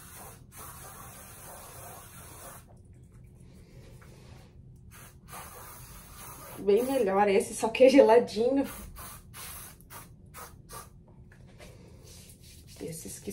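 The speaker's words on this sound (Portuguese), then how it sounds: "Esses que são spray." Sunscreen spray hisses onto skin in a couple of short aerosol bursts lasting about two seconds, close to the microphone. Someone speaks briefly in a quiet indoor setting.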